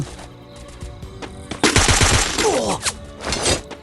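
Automatic gunfire crackles in a ranked match of the mobile shooter Free Fire, with sparse shots at first and then a loud sustained burst, followed by another rattling volley; no speech is heard.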